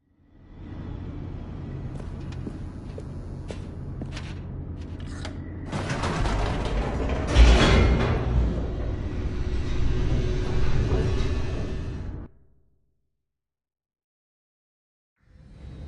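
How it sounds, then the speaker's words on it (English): A descending elevator in the video game The Stanley Parable gives a mechanical rumble with clanks and a sliding, rattling rush that builds mid-way, peaks sharply, then cuts to silence before a faint return. "The elevator raced downward, plummeting towards an unknown fate."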